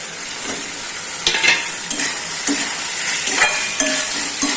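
Potato and pointed gourd pieces sizzle steadily in hot oil for a paneer curry while a spatula scrapes and stirs the pan every second or so, close up.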